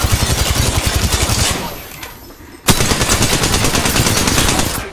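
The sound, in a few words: gunfire in Apex Legends video game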